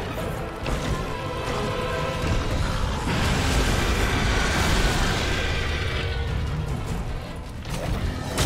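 Explosions from Raging Brachydios in the video game Monster Hunter World, a dense, loud, continuous roar of booms and rumbling blasts with no clear breaks.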